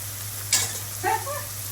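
Noodles stir-fried in a pan with vegetables and lightly fried onion: a soft, low sizzle over a steady hum, broken by a couple of brief stirring scrapes.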